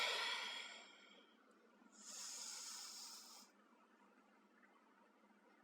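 A slow yoga breath, heard up close: a long breathy exhale fades out, then a hissing inhale follows after a short pause. Both breaths are faint and soft, with near silence between them and no talking.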